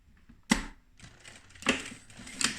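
A sewing machine stitching a folded fabric face mask: three short bursts of mechanical clatter with quiet pauses between them, close and without voices.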